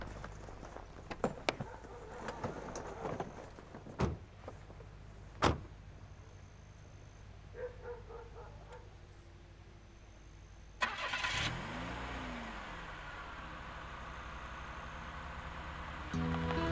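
A car on a cold night: doors thump shut in quick succession, power windows whir, then the engine cranks and catches into a steady mid-pitched idle that carries on to the end, with no talk over it.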